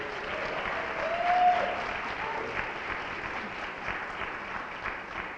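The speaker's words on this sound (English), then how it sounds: "please give a warm round of applause for our moderator, Dr. Mara Enya." Forum audience applauding its moderator: sustained, even clapping from a crowd, moderately loud and continuous, swelling slightly early on before holding steady to the end.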